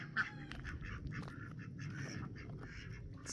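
Ducks quack repeatedly in a newly built enclosure fully covered with rabbit wire on a homestead, the calls fairly close and overlapping against a steady outdoor background.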